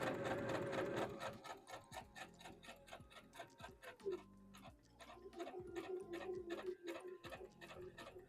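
A sewing machine stitching a Vogue V2000 wrap dress, fast even mechanical clatter in steady runs that pause and pick up again, close and fairly quiet.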